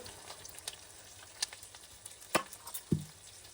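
Mutton fries in a pan over high heat, giving a soft continuous sizzle dotted with scattered crackles and a few louder pops and scrapes.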